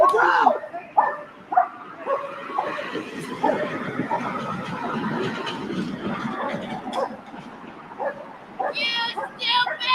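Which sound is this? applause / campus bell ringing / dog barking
dog barking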